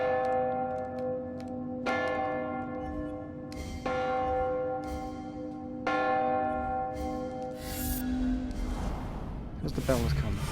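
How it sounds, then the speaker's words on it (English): Deep resonant bell strikes ring in The Room VR video game as a bell is lowered between hammers, about four evenly spaced tolls each decaying slowly, with a mechanical clatter near the end and a voice talking over them. "the bell up there is now lowered down, so it is in between the hammers"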